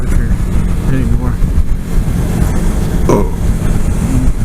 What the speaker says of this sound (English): Oh, beer burp.